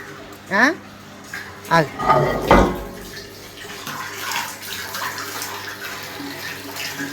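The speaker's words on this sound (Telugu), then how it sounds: "ఇదిగో తొట్టులోకి నీళ్ళు వస్తున్నాయి" Water gushes steadily into a tank, a continuous splashing rush while people talk nearby over it.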